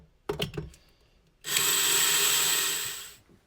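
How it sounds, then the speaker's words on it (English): A few clunks and rattles, then a power drill driving a screw whirs steadily for about two seconds before winding down while assembling a chicken plucker; close by, no voices. "Again, come in with your power drill."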